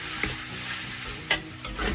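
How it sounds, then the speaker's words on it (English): Broken-up tofu sizzling in a hot pan with chili powder while a spatula stirs it, a steady bright hiss with a few soft scraping knocks, no voices. "add your broken up tofu and just stir it and let it fry for a few minutes"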